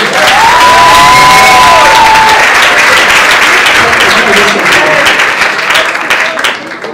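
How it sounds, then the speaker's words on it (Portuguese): Loud audience applause with cheering for Telê Santana at a sports-culture performance, a dense roar of clapping sustained from start to finish, briefly accompanied by a whistle-like tone early on, then tapering slightly at the end. "Vamos aplaudir Tele Santana."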